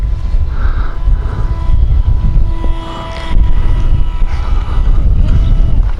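A TOBYRICH Moskito smartphone-controlled model airplane motor whines thinly at full throttle, straining against gusty wind that buffets the microphone with heavy low rumble, the motor tone wavering and faint beneath it.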